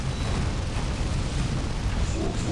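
Grenade blasts in the real-time strategy game Dawn of War, a dense, continuous roar of explosion rumble filling the whole stretch with no gaps and no voices.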